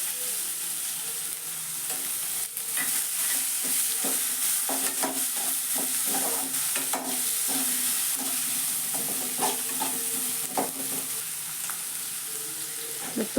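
Onions fry and are stirred with bay leaf and cardamom in a pan for lady's finger rice, a steady close sizzle broken by repeated scraping stirs, with no talking.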